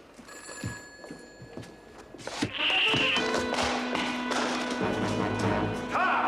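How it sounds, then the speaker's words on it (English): Telephone ringing in an indoor room scene, a bright repeated bell that starts after a few soft thumps and taps and then rings on loudly, with low music-like tones underneath. "Oh, dear, the phone again."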